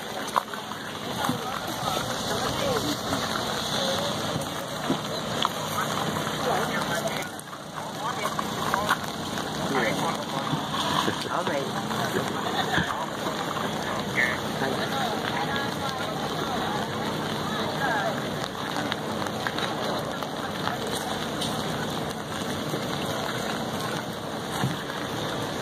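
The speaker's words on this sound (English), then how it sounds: "Is it still raining? Yes." Rain falling at an outdoor farmer's market, a steady, fairly quiet hiss and patter running throughout, with people talking in the background.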